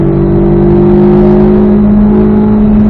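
Race car engine holding a steady high drone on a track as the driver gets back on the throttle after a corner, loud and continuous with strong sustained tones.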